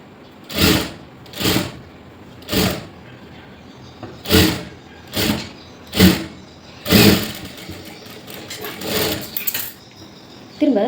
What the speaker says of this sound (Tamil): இங்கேருந்து ஒரு 1/2 இன்ச் கிட்ட நான் தையல் போட்டுக்கிறேன்.